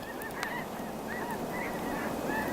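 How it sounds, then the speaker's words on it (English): A passing flock of snow geese gives repeated high honking calls, a steady chorus of overlapping honks at moderate distance over a constant outdoor background hiss, with no talk. "another flock, so that's 4 significant flocks of snow geese passing by."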